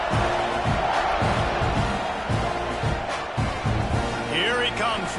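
A college football video game stadium crowd at an Alabama versus Texas A&M kickoff, a broad roar of cheering that swells and surges continuously beneath a commentator's voice.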